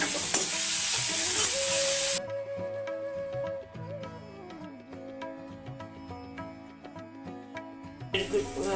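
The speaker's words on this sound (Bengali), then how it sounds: "পেঁয়াজ কুচি দিয়েছি দিয়ে আমি এখন এটাকে সামান্য ভেজে" Chopped onions fry in a pan for rui fish curry, a loud sizzle at first that drops to a softer crackle while a spoon scrapes and stirs, with faint music-like tones underneath.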